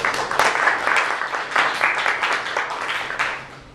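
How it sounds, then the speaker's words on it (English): An audience clapping at a city council candidate forum, a burst of dense applause that swells and then tapers off over a few seconds, fairly loud and without speech. "I'll let you clap one more time"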